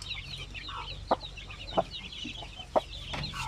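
Native chickens and their chicks cluck and peep at close range in a farm yard, with a few sharper calls standing out over a steady background murmur.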